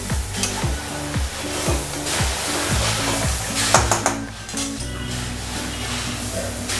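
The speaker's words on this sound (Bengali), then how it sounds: "এই মশলাটাকে আমি এবার ভালো করে শুকনো শুকনো করে কষিয়ে নেব।" Spice paste being dry-fried in a pan, stirred steadily so the sizzle rises and falls in short scraping surges, close and fairly loud with no talking.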